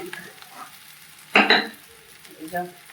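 Green chillies dropped into hot oil in a pan while cooking paneer posto, giving a sudden loud close sizzle that flares and fades over steady frying hiss, with faint stirring noises.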